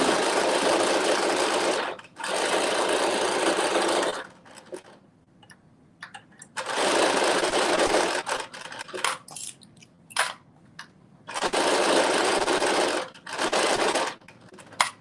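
Sewing machine stitching a cut-out maxi dress, running in three loud steady bursts of about two seconds each, with quieter pauses and small handling clicks between them.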